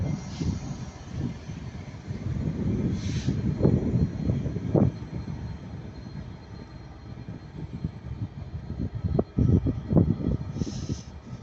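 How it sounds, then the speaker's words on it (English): A pair of Northern Class 331 electric trains pass at Ardwick on the Liverpool to Manchester Airport line, giving a steady rumbling roar that swells and fades with some squeals, heard from nearby without any talking. "There goes a pair of Northern Class 331s going from Liverpool High Street to Manchester Airport."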